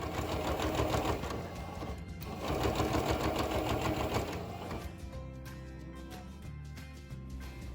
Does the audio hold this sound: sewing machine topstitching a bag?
yes